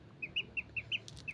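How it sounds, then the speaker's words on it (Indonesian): Ducks and broiler chickens on a farm, a quick run of short, high chirping calls in an even series over a faint low hum, close and fairly quiet. "ini dia bebek dan ayam boiler, dan dia senang bermain air"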